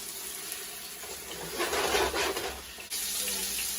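Meatballs searing in hot oil in a pot for soul food barbecue meatballs give a steady, moderate sizzle, a hiss that swells briefly in the middle and then settles back to an even crackle.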